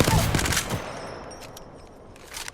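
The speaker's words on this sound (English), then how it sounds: "they've increased the spread on the Hemlock, but only during hip fire" Hemlock rifle hip-fired in a video game: a quick, loud burst of rapid shots in the first moment, then a fading tail with faint background noise.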